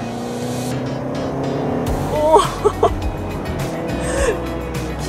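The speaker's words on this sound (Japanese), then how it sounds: "気持ちいいですね、このエンジン音。" A Toyota Vellfire minivan's engine revs hard under acceleration on a test course, its pitch climbing in sharp surges, while a voice briefly exclaims in amazement over the steady mechanical hum.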